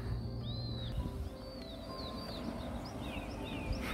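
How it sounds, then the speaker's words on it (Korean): Birds sing and chirp on an early morning walk outdoors, several short rising and falling calls scattered through the clip, fairly faint over a steady background rumble. "아침에 나오니까 새소리가 좋네요."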